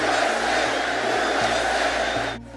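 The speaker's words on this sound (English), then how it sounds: "What a crowd this is." A large crowd at a Trump rally roars and cheers in a dense, continuous wash of voices that holds steady, then drops off sharply at the very end.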